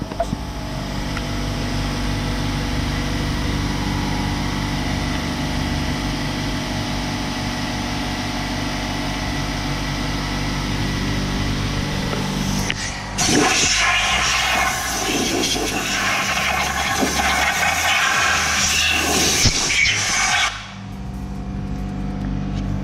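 Brake cleaner sprayed onto clutch parts of a MINI Cooper S Coupe R58 during a clutch replacement, a loud steady aerosol hiss that gives way to a harsher, rougher spray burst before stopping abruptly, close with no talk.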